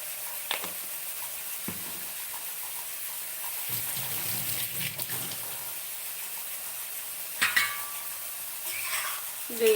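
Dried red chillies with a little chili powder and turmeric frying dry in a pan without oil, giving a soft steady sizzle with occasional stirring scrapes and clinks, fairly quiet and with no talking.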